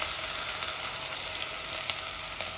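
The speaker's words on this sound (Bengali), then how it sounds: "আমার শুকনা উপকরণগুলা ভাজা ভাজা হয়ে গেছে" Dry spices sizzle and fry steadily in a hot pan for a Bangladeshi chicken bhuna, a continuous close crackle with small pops and no voices.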